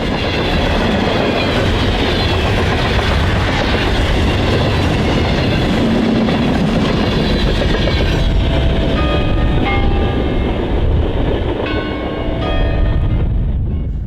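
An Amtrak train passes loudly and close on the Michigan line, with heavy continuous rumble, wheel clatter and squealing tones through the pass, easing slightly toward the end.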